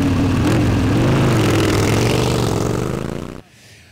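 A Royal Enfield Super Meteor 650 motorcycle engine revs loud and close, rumbling steadily before cutting off abruptly near the end.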